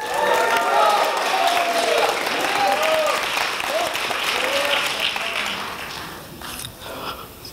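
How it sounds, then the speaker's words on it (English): An audience at a startup pitch competition final applauds loudly and steadily, with whoops and cheers rising over the clapping before the applause fades toward the end. "Let's give him a huge round of applause."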